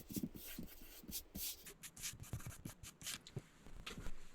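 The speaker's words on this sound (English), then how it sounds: "And then carefully rub off the excess." Paper being carefully rubbed away from the edge of a punched spring-leaves frame in a dot pen craft project, giving soft, close scratchy brushing strokes in an irregular rhythm, quiet and alone.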